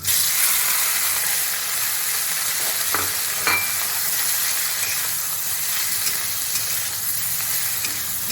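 Spine gourd frying in ghee in a pan, giving a steady close sizzle and hiss that holds throughout, with a couple of brief clinks partway through.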